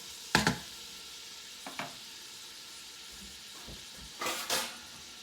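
Food stirred in a frying pan during home cooking, with a sharp scrape and sizzle, a second brief scrape, then a double scraping stir near the end, all fairly close over a quiet background hiss.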